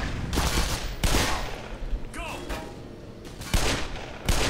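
Desert Eagle pistol shots ring out in Black Mesa, four or so sharp, heavy cracks spaced about a second apart amid game noise, with a player's voice talking over them.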